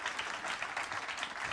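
Audience at a talk on the Cassini probe applauds a speaker, with dense steady clapping at moderate distance that carries on without a break.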